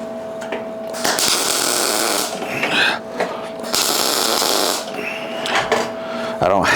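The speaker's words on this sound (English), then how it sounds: "I want to get some welds on the inside just to help hold it and support it from the inside" Broadband crackling hiss of welding inside a metal sculpture, coming in several sustained bursts separated by short pauses, loud and close, with a steady tone running through.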